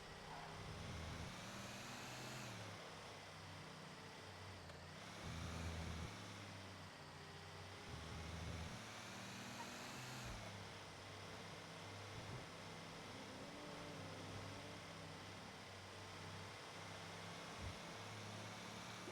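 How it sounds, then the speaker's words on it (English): Steady video game car engine drone with rising and falling revs, a low rumble under a broad whooshing hiss, as cars pass and accelerate close by. "Interesting car noises coming around."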